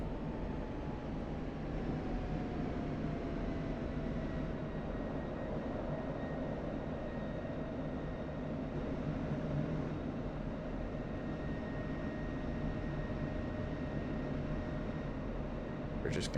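An F-16 jet taxis after landing in the DCS flight simulator, giving a steady, even engine whine and hum that holds throughout with a slowly falling tone, with no talk.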